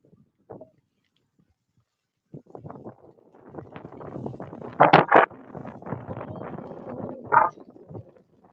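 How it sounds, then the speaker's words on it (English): Gusty wind buffets a microphone outdoors in a home garden, rumbling in uneven bursts that build toward the middle and swell again near the end, loud and close with no talk. "Yeah, it's windy."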